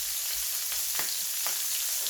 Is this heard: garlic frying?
yes